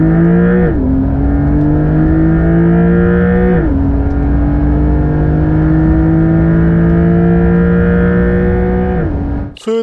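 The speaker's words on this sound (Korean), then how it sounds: "이제 시속 200km까지의 가속 성능을 볼까요?" A Porsche 911 Carrera 4 GTS (992) accelerates hard toward 200 km/h, its engine note loud and close, climbing steadily in pitch with distinct drops at each gear change, then cutting off abruptly at the end.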